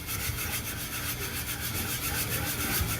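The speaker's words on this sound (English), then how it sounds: "I'm scraping right into the surface here" Chain mail scrubbing hard against a damaged cast iron skillet surface, a continuous, dense, rough metallic rasping with a steady back-and-forth pulse, loud and close.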